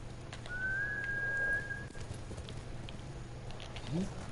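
A sharp, sustained whistle in a video game is followed by clopping horse hooves, heard faintly over a low steady background hum.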